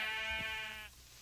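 Mandrake screeching in a modded Minecraft world, one short wavering bleat-like cry lasting about a second, close and loud, then cutting off.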